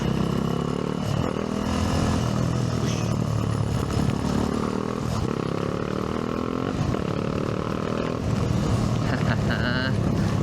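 A 2025 KTM ADV 390 motorcycle being ridden, its engine droning and shifting pitch up and down continuously, with wind rush and a rider talking over it.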